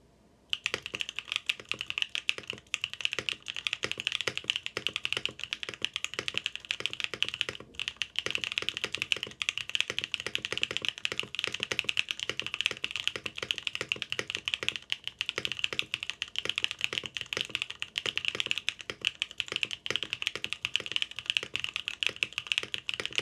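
Steady, rapid typing on a Vertex Arc 60 mechanical keyboard with Camping Life Aloe switches and NicePBT November Fog keycaps, crisp clacky keystrokes, close and continuous throughout, with a brief pause near the start.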